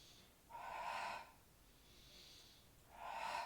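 Breaths in and out during a Pilates single leg stretch, three airy exhalations close to the mic, with a softer breath between them and no talk.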